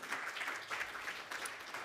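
Conference audience at a small business lunch session applauding a speaker's introduction, a steady, even wash of many hands clapping, moderately distant and continuous throughout.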